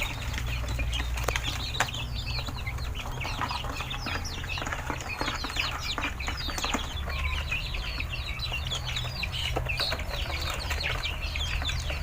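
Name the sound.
chickens eating and clucking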